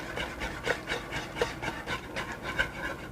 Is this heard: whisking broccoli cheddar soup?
yes